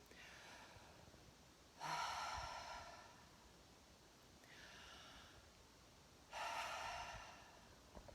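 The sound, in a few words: slow deep conscious breathing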